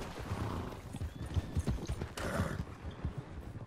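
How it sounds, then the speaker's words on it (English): Panicked horse in Red Dead Redemption 2, with hooves scrambling and stamping plus agitated neighing and snorts amid game noise, moderately loud and irregular. "One of my horses like freaking out on me"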